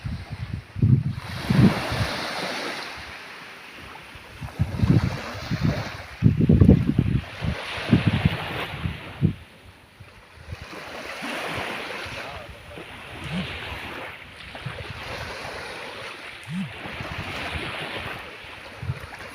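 Sea waves wash onto a coral shore on Koh Kood, Thailand, in rolling surges, with heavy wind buffeting the microphone throughout.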